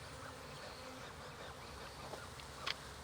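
Honey bees in an open beehive during an outdoor beeyard inspection hum in a low, steady drone. It stays quiet and continuous, with a brief clatter near the end.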